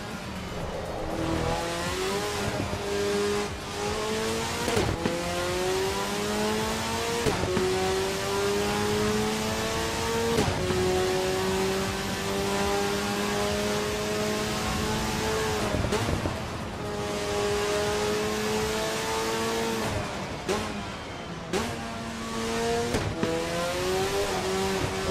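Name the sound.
race car engine and gear shifts in Assetto Corsa EVO video game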